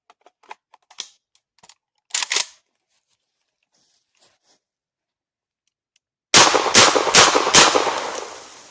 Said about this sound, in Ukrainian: Ну що, виконуємо серію пострілів.